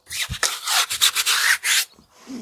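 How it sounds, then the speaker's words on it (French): A semi-rigid bristle brush scrubs a car wheel during detailing, giving loud, close, rasping strokes in quick bursts, each a second or less, with a brief knock and a short pause near the end. "Bien brossé avec ce type de brosse, avec des poils semi-rigides."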